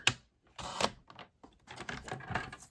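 Scissors snipping through paper while trimming a decorated gift box for a craft project, a few crisp close cuts separated by short pauses.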